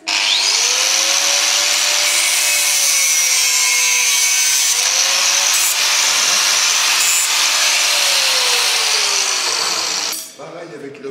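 An angle grinder cuts through a steel blade in one steady, loud, continuous whine with a shifting tone, then stops abruptly near the end.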